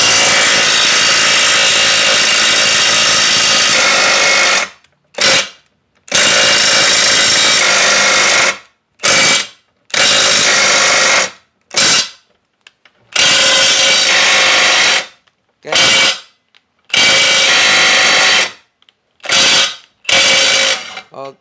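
DCK KDPB488 20V cordless brushless impact wrench set to 600 Nm, hammering loudly up close in repeated bursts of a few seconds each, separated by short silences.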